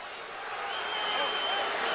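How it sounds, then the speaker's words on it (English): A boxing crowd applauds after a fifteen-round championship main event between Livingstone Bramble and Ray Mancini, steady hissing clapping and crowd noise swelling slightly, with a voice talking over it. "They both deserve a big hand right now."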